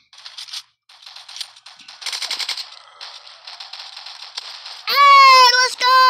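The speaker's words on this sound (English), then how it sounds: "Grenade." Rapid rattling gunfire crackles through a Roblox shooter match in bursts, then a bright, ringing electronic tone sounds near the end, all loud and close.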